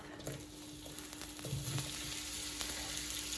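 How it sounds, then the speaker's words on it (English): Onions sauté in oil in a wok over moderate heat, a quiet continuous sizzle with faint crackles and occasional light stirring clicks, close and steady with no voices. "So I'm going to saute my onions off."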